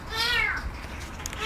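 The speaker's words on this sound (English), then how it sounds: "Stop meowing." A cat trapped in a backyard sewer meows twice, a drawn-out plaintive call followed by the start of another, moderately close and echoey with faint background noise.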